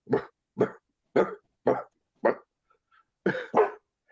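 A dog barks at a spotlight shining through a campground, giving five evenly spaced sharp barks, a short pause, then two quick barks close together, loud and near.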